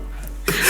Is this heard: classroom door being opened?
no